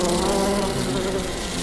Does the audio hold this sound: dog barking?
no